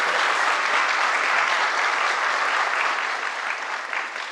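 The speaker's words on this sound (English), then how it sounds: "So another big round of applause for Hazel" Sustained, loud applause from a conference audience, dense and even throughout, easing slightly toward the end.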